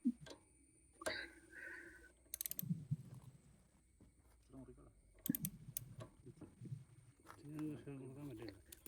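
Nuts on a bike are tightened with a tool, producing scattered metallic clicks and ratcheting sounds amid intermittent talking and quiet gaps.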